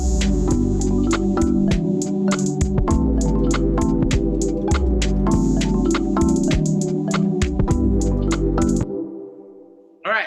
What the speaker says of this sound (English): So that's my whole beat right there that I made